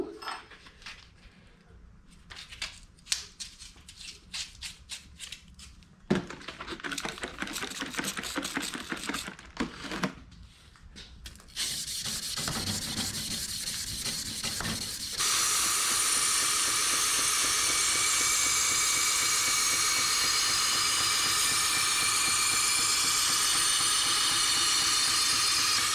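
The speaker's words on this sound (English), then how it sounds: "time for a little hand sanding" A forged twist Damascus high carbon steel knife is sanded by hand in a workshop, with irregular scraping strokes at first, then denser rasping, and later a steady, loud machine hiss.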